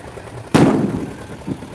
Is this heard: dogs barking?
no